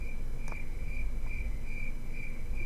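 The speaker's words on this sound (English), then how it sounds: "They've got gentle crickets." Gentle cricket chirping from a tabletop game's ambient sound library plays as a steady background loop, with a thin repeating trill running evenly through a soft, constant bed of noise.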